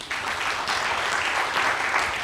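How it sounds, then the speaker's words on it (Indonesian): Church congregation applauding for Jesus during a sermon, a steady, dense wash of many hands clapping at moderate loudness, continuous from start to finish with no speech over it. "Mau tepuk tangan buat Yesus?"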